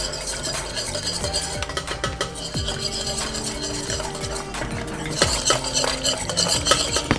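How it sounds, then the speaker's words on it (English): A spoon stirs a thickening homemade chocolate mixture of melted chocolate and cacao powder in a pot, scraping and knocking continuously and close up, with no talk. "So just stir, make sure you stir."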